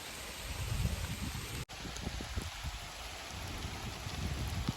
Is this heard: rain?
yes